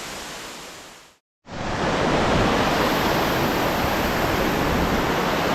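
Waterfall beside the Sri Pada pilgrimage trail, a loud, steady roar of rushing water close by, broken by one short silent gap before the torrent returns at full strength, no voices.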